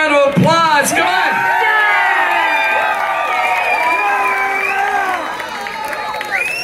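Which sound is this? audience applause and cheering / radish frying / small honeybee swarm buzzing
audience applause and cheering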